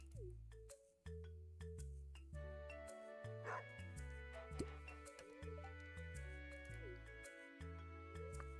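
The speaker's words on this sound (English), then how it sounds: "A doggy." A dog barks a few times in the farming game Stardew Valley, short yips set against steady looping game music, with no talking.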